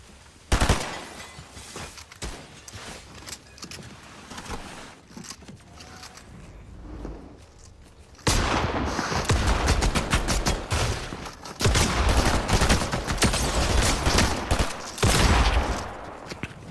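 Rapid bursts of gunfire from a submachine gun in the video game Fortnite, loud continuous volleys packed together in the second half with quieter scattered shots earlier, plus game effects and no speech.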